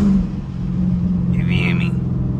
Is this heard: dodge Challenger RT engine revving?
yes